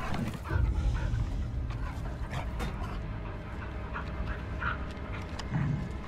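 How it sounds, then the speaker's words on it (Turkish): A monster dog in The Casting of Frank Stone video game pants and whimpers continuously over a dense, rumbling ambient backdrop, with occasional sharper yips rising above the steady noise. "Ama bir canavar köpek gibi sanki."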